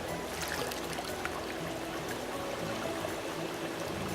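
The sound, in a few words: glacier water running in salmon hatchery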